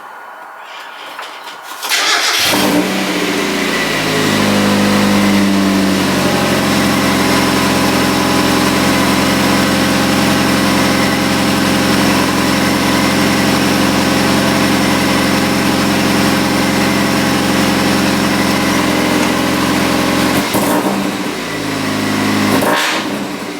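A Volkswagen engine in a Miata-framed project car cranks and catches, then idles loud and steady for about twenty seconds before cutting off, rough and droning up close.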